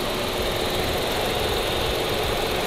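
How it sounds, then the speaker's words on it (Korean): The engine of a Kia Ray bi-fuel car idles in a steady, even hum with a faint mechanical ticking, close and continuous, with no speech over it. "엔진 소리도 일정합니다."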